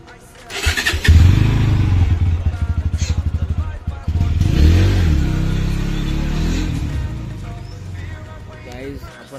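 A motorbike engine starts with a loud, rapid cranking rattle, settles, then revs and pulls away with a rising then fading drone, close by and alone without talk.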